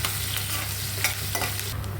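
Asafoetida and onion fry in hot oil with a constant dense sizzle, broken by occasional spatula scrapes and stirring sounds, close and steady throughout with no voices.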